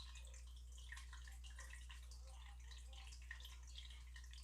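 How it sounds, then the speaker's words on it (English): Water trickles and splashes continuously from an aquarium filter, a faint, steady running sound with small drips over a low constant hum in a quiet room. "people seem to enjoy the running water in the background"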